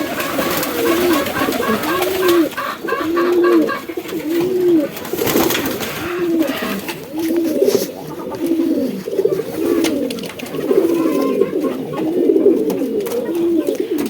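Pigeons on a small farm coo in a steady repeating rhythm, several birds close by, with brief talk and light background noise in between.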